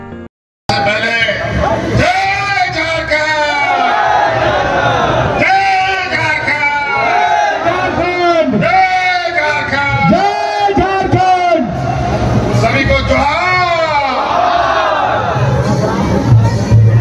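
A large, dense crowd at an election nomination rally, with a loud continuous roar of shouting and chanting voices across the whole span, swelling in waves of cheering.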